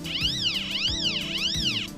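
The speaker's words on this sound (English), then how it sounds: "Cat jumps on the shelf" A cat meows three times in a steady rhythm, each call rising and falling, close and fairly loud over a low background hum.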